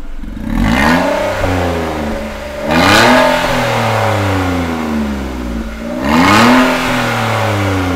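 A Datsun RediGo fitted with an AZ Performance Valvetronic exhaust revs up loudly twice, its steady idle rising into two surging blips before settling back to a rumbling hum.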